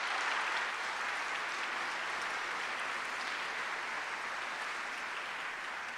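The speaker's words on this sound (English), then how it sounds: "And ladies and gentlemen, I want you to give them all a big round of applause," Steady, dense audience applause at a national music competition, a continuous wash of clapping from a large crowd that holds at an even level throughout.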